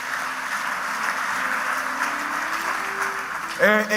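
A church audience claps for three pastors during a sermon gathering, a steady wash of applause filling the room for several seconds before a voice cuts in near the end.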